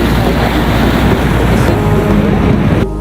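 Sea waves surging and washing continuously beside an open-air seating area in the Maldives, a steady loud roar of surf mixed with wind buffeting the microphone, cutting off near the end.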